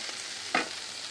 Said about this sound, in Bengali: এই শিমটা খুব দানা হয়ে গেছে, তো তার জন্য একটু সুন্দর করে ভাজতে হবে।